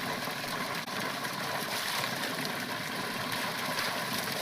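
Constant rushing of water flowing in a village stream, a dense, steady broadband wash close by with no pauses and no talk.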